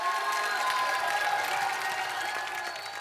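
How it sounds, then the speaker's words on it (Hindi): A studio audience at a comedy talk show breaks into sustained, dense clapping that stays loud and steady throughout, with faint crowd murmur beneath. "जोरदार ताली हो जाए"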